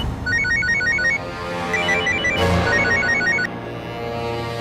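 A mobile phone ringing: a loud, repeating electronic ringtone of short bright tones in quick patterned bursts, close by, with no voices over it.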